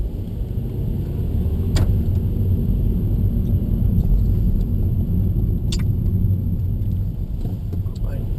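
A car engine running in gear produces a steady low rumble that stays loud and constant throughout, with a few faint clicks and a voice speaking over it.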